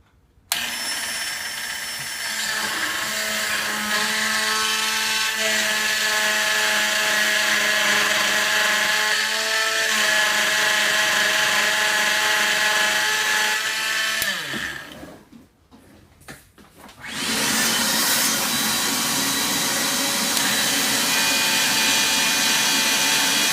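A power tool cutting a Tamiya mini 4WD Japan Cup style body gives a loud, steady, high-pitched whine that winds down and cuts out briefly near the two-thirds mark, then starts up again at full strength.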